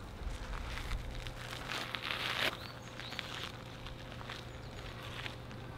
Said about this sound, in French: ce petit revêtement en mini cailloux là, quand on marche dessus, écoutez-moi ça.